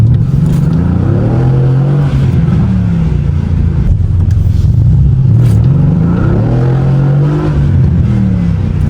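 A 500 hp Mercedes-AMG car engine revs during a night drive, a loud, close, continuous rumble that rises and falls in pitch through repeated throttle swells.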